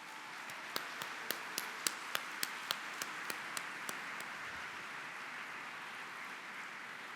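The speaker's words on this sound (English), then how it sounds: "A round of applause." Audience applause at an awards ceremony, a steady wash of clapping from a large seated crowd, with a run of sharper, evenly spaced claps standing out near the front before the clapping settles into a continuous hum.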